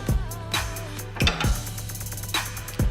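Torque wrench ratcheting in short bursts while tightening engine connecting rod bolts to 60 foot-pounds, loud and close, with several separate clicking strokes and metallic knocks in a workshop, no talking.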